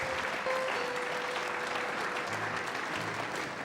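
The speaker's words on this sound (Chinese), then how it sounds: "让我们一起掌声为他见证" A wedding-ceremony crowd applauds as a groom presents flowers to his bride, giving dense, steady clapping that fills the room at moderate volume, with a faint sustained tone beneath it.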